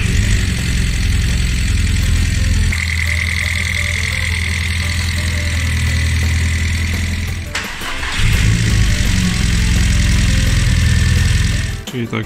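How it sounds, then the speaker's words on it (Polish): A Seat Leon 1.8T engine rebuilt as a 2.0-litre stroker idles steadily after its first start, a constant low rumble with a brief interruption near the middle before it settles again. "Będziemy chcieli go pierwszy raz odpalić."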